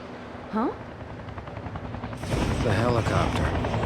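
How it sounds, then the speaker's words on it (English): Helicopter rotor chop in the video game XIII, joined partway by a burst of rapid gunfire and a swelling roar, loud and dense. "The helicopter. I remember."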